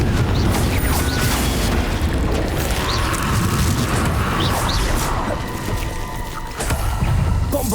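Confringo fire spell in the Hogwarts Legacy game, cast amid combat: dense booming bursts and crackling whooshes overlap in a loud, busy barrage with mechanical clatter throughout.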